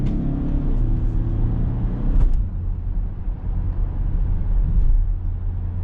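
Steady low road and tyre rumble inside a 2019 Audi A6 Avant 40 TDI while driving, a continuous hum with a brief thump partway through and no talking.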